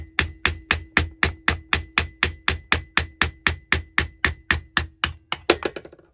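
A screwdriver is struck repeatedly against a gearbox seal stuck in since new, on a transaxle, giving about twenty sharp, evenly spaced metallic hammer blows, close and loud, the last few quicker and uneven.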